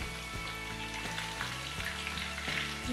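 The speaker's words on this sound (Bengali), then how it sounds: "মিডিয়াম থেকে একটু বেশি হিটে নাগেটসগুলোকে ভাজতে হবে" Chicken nuggets fry in oil over medium-high heat, a steady close sizzle overlaid with a regular tonal hum that cuts out in repeated short breaks.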